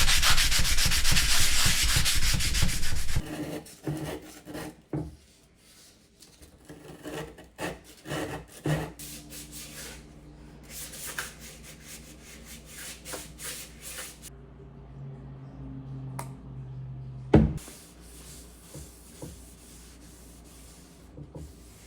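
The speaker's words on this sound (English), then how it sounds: "we are going to go in with 400 grit sandpaper to give it a nice smooth" A wooden cutting board gets rubbed down with 400 grit sandpaper. A loud burst of scratchy rubbing opens the sequence, followed by quieter, irregular sanding strokes and handling knocks.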